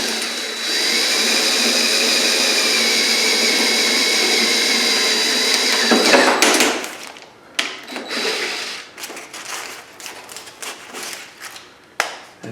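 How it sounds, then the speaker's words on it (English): A high-pitched electric drill spins a 1/8 inch bit through holes in a Mustang body panel during bodywork prep. It whines steadily for about six seconds, then stops, and scattered clicks and handling knocks follow. "this 1/8 inch drill bit"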